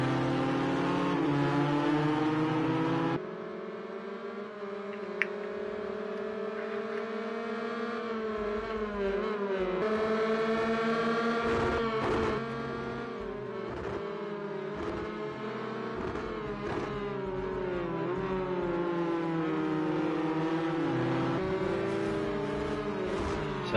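Race car engines, including a Subaru Impreza, howl through a Project Cars 2 race, sustained and close with rising and falling revs through gear changes and corners, over about twenty seconds with no talk.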